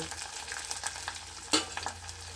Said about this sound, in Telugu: వాటితో పాటు కరివేపాకు పచ్చిమిర్చి ఉల్లిపాయలు